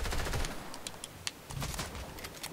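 Gunfire in the video game Fortnite: dense bursts of rapid shots crackle across the whole stretch, loud and close, with no one speaking over them.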